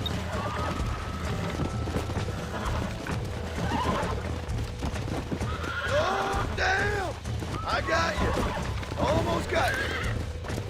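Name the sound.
horse in the video game Red Dead Redemption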